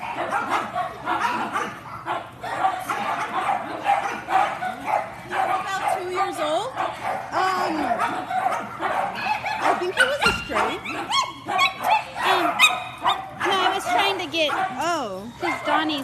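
Several dogs at a home with other dogs and kids bark, yip and whimper in quick overlapping bursts close by, while people talk over and between the barks.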